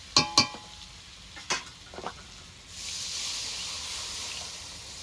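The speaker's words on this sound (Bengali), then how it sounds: "তো আমার পটল দিয়ে মশলা দিয়ে একসঙ্গে কষানো হয়ে গেছে এরপরে জল দিয়ে দেবো" A few knocks and clinks sound, then water poured into a pan of frying pointed gourd and spice mix sets off a sudden, steady hiss and sizzle that continues to the end, moderately quiet and with no voices.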